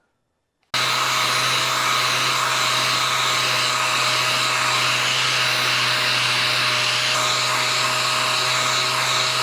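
A dual-action sander sands back the paint on a custom project, giving a loud, continuous close-up whir that starts suddenly after a brief silence and holds steady throughout.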